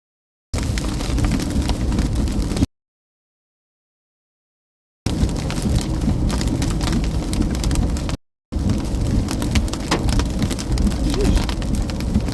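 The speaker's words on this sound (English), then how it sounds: "Hail does sound louder than it actually is though." Hail hammers down during a tornado-risk storm in Iowa, a loud, dense, continuous pelting roar that comes in three long bursts separated by sudden silent gaps.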